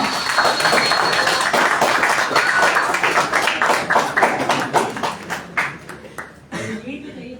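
Applause at a career counselling seminar on scholarships at Turkish universities welcomes the next speaker, loud, dense clapping from a seated audience that gradually thins to scattered claps and fades out.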